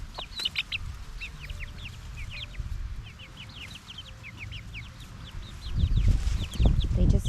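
Hen in a permaculture garden food forest calling her chicks to food, with rapid high peeping of chicks in repeated bursts and low clucks beneath, plus rustling and scratching growing louder near the end.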